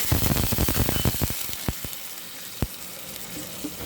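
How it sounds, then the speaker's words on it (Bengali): Water is splashed into fried onion, garlic, tomato and spice paste for tilapia curry, setting off a burst of crackling sizzle with sharp pops that fades to a quieter hiss, no talking. "এবার সামান্য পানি দিয়ে দিব"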